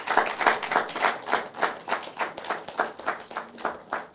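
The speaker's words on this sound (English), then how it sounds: "a round of applause again for the ladies and gentlemen from the law faculties" Audience clapping at a university law quiz competition, a somewhat uneven, pulsing stretch of hand claps that swells and dips in rough rhythm, moderately close and without talk.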